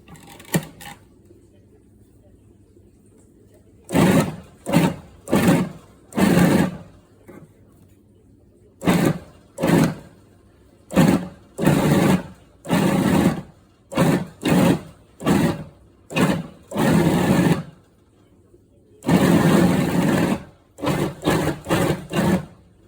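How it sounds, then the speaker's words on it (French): A standard food processor chops meat in short pulsed bursts: about a dozen loud, whirring spurts of a second or so each, separated by quiet gaps, with a faint low hum in between. "j'utilise un robot classique pour montrer que l'on peut hacher la viande sans la mixer complètement"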